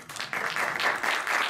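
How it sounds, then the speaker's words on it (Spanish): Clapping from the audience at a video game entrepreneurship conference in Andalusia arrives in a few uneven swells for a speaker, moderately close and with no talking over it. "otro aplauso por favor a Nacho."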